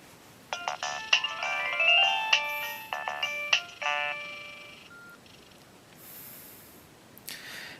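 A 2005 Nokia 2115i Virgin Mobile phone plays a bright, beeping polyphonic ringtone melody of short stepped tones for about four seconds, followed by quieter faint tones near the end.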